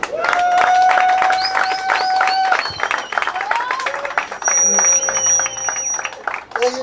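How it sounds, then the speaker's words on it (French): Audience at a Congolese comedy club show bursts into loud, dense applause that runs throughout, with shrill sustained whistle-like tones sounding over the clapping and crowd noise. "On applaudit plus fort s'il vous plaît"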